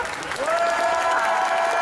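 Audience clapping at an indoor cosplay costume parade, a dense, steady burst of applause from a crowd with a voice rising faintly over it.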